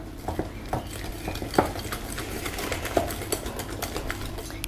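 A utensil gently folds flour into cake batter in a bowl, soft steady scraping broken by occasional light clicks against the side, close and alone.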